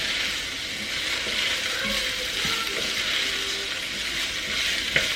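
Food frying in bacon grease, likely potatoes, gives a steady, close sizzle that holds evenly throughout, with a few faint clinks and scrapes of stirring beneath it and one sharper tap near the end.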